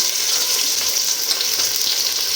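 Powdered turmeric, chili, coriander and cumin with salt and ginger-garlic paste fry in a pan for a village-style Bengali khichuri, giving a steady, close, bright sizzle with no talk.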